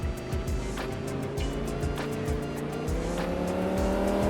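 A powerful sports car accelerating hard, its engine note climbing steadily through the gears with rising pitch, loud and close from inside the cabin, with no talking.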